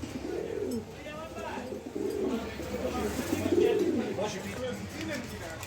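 Danish pigeons coo in soft, low, rolling phrases that repeat close by over a faint background hum.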